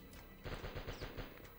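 Gunfire from a shotgun in the Die Hard Trilogy video game comes as a quick burst of several rapid booming shots after a brief quiet moment, loud and close, with no talking.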